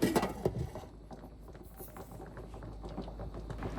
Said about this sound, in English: We want this to simmer on the lower side of medium-low.